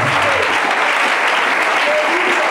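Sustained applause from a church congregation fills the space evenly from start to finish, with a faint voice under the clapping.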